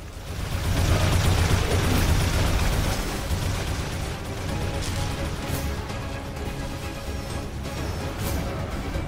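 A base building is destroyed in The Riftbreaker, a heavy rumbling explosion swelling early and then trailing into crackling debris and distant battle noise.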